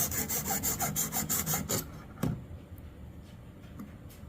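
A knife blade worked near its base on a Xarilk Gen3 sharpener, about a dozen fast rhythmic rasping strokes, then a single louder scrape and a few faint light touches.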